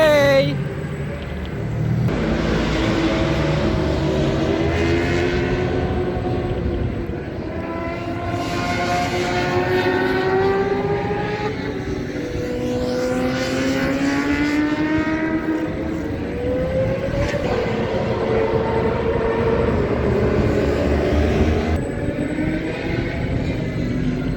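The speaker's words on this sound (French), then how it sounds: "Apparemment, il y a 2-3 Porsche qui ont envie de rouler sur le circuit là." Several Porsche cars run laps on the Le Mans circuit, their engine notes droning and rising and falling in a steady, continuous wash of sound that fills the whole stretch at moderate distance.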